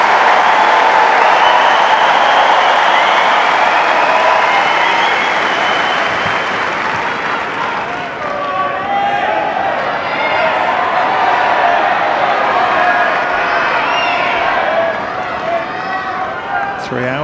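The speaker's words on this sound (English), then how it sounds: "Look at the crowd now giving both players the ovation they deserve." The Wimbledon 2019 crowd at a Nadal versus Kyrgios tennis match gives a loud, sustained ovation of applause and cheering that slowly fades to scattered clapping, with a commentator's voice speaking over it.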